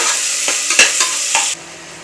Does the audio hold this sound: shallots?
yes